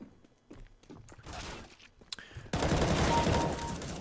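Gunfire in Counter-Strike: GO, with a few scattered shots and clatter, then a dense sustained burst of fire, close and fairly loud.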